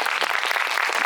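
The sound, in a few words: audience applause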